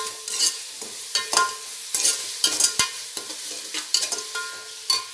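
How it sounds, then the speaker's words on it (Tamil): Ground small-onion (shallot) paste fries with onions in a pan for chicken dum biryani, with repeated sharp spatula scrapes and clinks over a soft sizzle, up close. "இப்போ பார்த்தீங்கன்னா நம்ம அரைச்சி வச்ச அந்த சின்ன வெங்காயம் பேஸ்ட்டும் போட்டுக்கலாம்."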